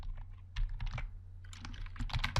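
Someone typing Python code on a computer keyboard: an uneven patter of close, crisp key clicks, sparse at first and then busier, over a low steady hum.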